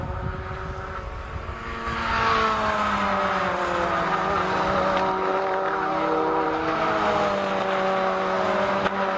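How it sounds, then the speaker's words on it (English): Race cars at Anglesey circuit during a BRSCC race weekend, engines droning loudly with rising and falling harmonic whines as several cars pass close by in steady succession, no talk over the roar. "There is Neil Plymouth chasing after the Make Happen Racing car as well."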